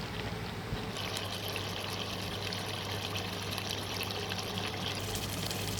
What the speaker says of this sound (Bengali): ঝোলের জন্য পানি দেওয়া হয়েছে